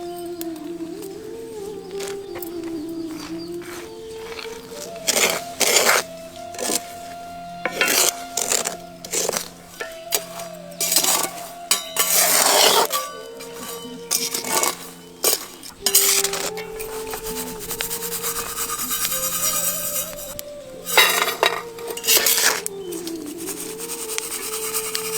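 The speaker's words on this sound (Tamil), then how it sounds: "மணல் நல்லா சூடானதும் கடலக்கொட்டைய மணல்ல சேர்த்து வறுக்க ஆரம்பிச்சிடலாம்." Peanuts are being roasted in hot sand in a metal pan. A scraping, rattling stir comes in irregular loud bursts over a steady background hum, with no voices.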